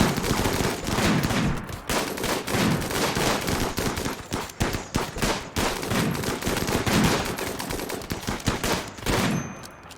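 Gunfire in the video game RimWorld during a colony battle: dense, loud volleys of rapid shots and bursts that continue almost without pause for the whole stretch.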